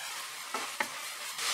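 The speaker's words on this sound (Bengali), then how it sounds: "মাছগুলোর সঙ্গে ভালো করে কিন্তু মশলাটাকে মিশিয়ে নিয়ে এটাকে কষাতে থাকবো।" Dried fish and spices sizzle softly in a pan. Two brief stirring scrapes cut through a faint, steady frying hiss, close but quiet.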